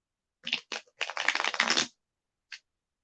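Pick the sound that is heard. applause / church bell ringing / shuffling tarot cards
shuffling tarot cards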